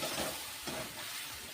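Curry ingredients frying in a pan for aloo curry give a steady, close sizzle with light stirring scrapes, broadband and even throughout with no voices.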